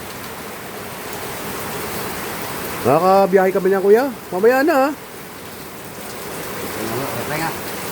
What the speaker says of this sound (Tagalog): Biglang lakas ng ulan.